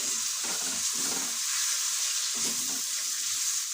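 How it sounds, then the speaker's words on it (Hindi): Spices with green and dried red chillies frying in oil for a Bihari-style green peas curry, a steady soft sizzle with faint stirring scrapes, close and alone. "अब ये सारे मसालों को अच्छी तरह से फ्राई कर ले रही हूँ"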